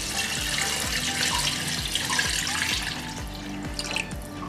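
Water poured steadily from a glass into a pot of chicken tehari, four glassfuls measured against two of rice; a continuous close splashing gurgle with no talk.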